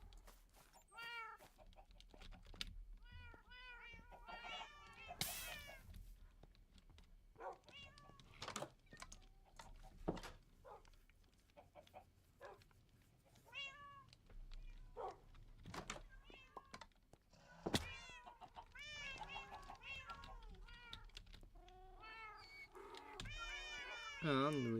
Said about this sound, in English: And back to the cat sounds.